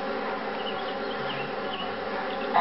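Killer bees in the Tigger's Honey Hunt video game give off a steady, droning buzz that holds at an even level, ending in a short brighter burst.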